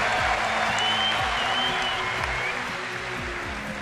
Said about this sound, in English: getting the applause he deserves